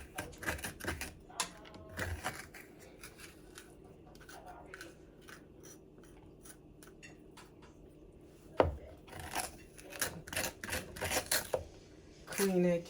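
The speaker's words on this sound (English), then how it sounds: "that big spoon and run it around in the inside of that butternut squash" A big spoon scrapes the seeds out of a butternut squash, producing repeated scratchy scraping and clicking strokes in uneven bursts, with a person talking at points.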